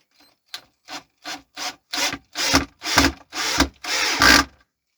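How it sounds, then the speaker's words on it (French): A screw being driven into wood on a building site, a series of rasping, grinding pulses that grow longer and louder as the screw bites deeper, close and alone with no talk. "Et je visse la première."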